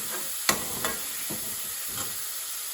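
Chillies, onion and garlic frying in a pan with coriander, a steady close sizzle broken by a few sharp stirring clatters, the loudest early on, then quieter scrapes.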